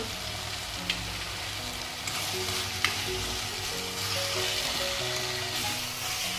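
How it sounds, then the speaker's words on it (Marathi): Pav bhaji masala with hing, a homemade spice blend, sautés in a pan. A steady close sizzle runs throughout, with occasional stirring scrapes and a few sharp clicks, and nobody speaks. "दोन मिनिट परतून घेऊया मसाला"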